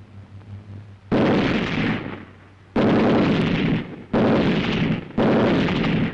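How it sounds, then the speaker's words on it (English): Rifle fire and machine-gun bursts in a German infantry squad combat film come as four loud, dense blasts of gunfire, each lasting about a second, separated by brief gaps of low rumble. "The steady, sharp reports of rifle fire from both flanks and the bursts of covering fire from machine guns."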